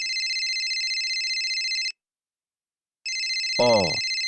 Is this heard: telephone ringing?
yes